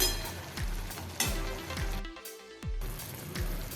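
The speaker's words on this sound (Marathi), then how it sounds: "पाण्याला चांगली उकळी आलेली आहे" Water with potatoes and onions bubbles and sizzles steadily at a rolling boil in a pan at close range, with no one speaking.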